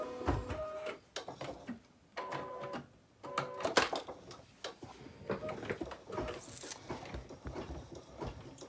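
Embroidery machine running a straight stitch along a fabric edge, with rapid mechanical needle clatter in bursts broken by short pauses, close and steady with whirring and clicks throughout.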